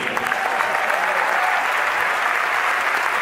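Concert audience in Buenos Aires applauding a tango orchestra: dense, continuous clapping from a large crowd, steady and fairly loud throughout.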